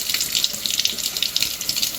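Water flushes steadily through a blocked, leaking boiler condensate trap, a continuous close splashing and trickling rush with no voices.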